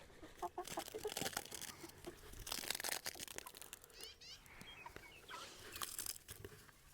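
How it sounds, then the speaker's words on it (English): Chickens cluck and squawk intermittently at a moderate distance, with rustling and scratching sounds in between. "I hope it's okay that the chickens are in the background."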